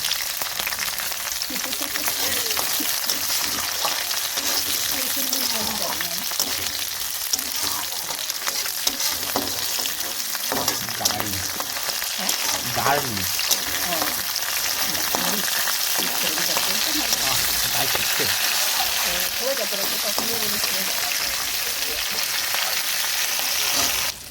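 Wild chechi greens frying with oil and garlic in a pan, a loud, steady sizzle with crackling and occasional stirring, while a voice talks faintly in the background.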